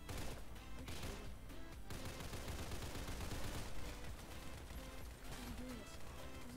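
Rapid gunfire in the Roblox game Red Box, bursts of shots crackling in quick succession with brief pauses between volleys, loud and close, with no talking over it.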